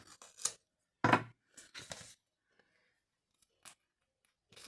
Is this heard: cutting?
yes